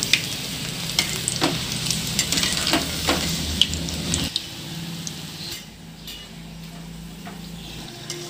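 Noodle bondas fry in hot oil, a steady sizzle with scattered clicks and ticks of turning, loud for about four seconds before dropping to a quieter, softer bubbling.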